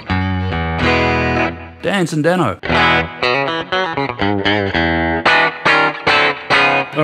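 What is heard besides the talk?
Danelectro electric guitar clean tones from lipstick pickups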